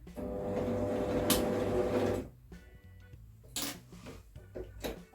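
A sewing machine back stitches through flannel fabric, giving a steady close mechanical whir for about two seconds, then light clicks and handling sounds as it stops.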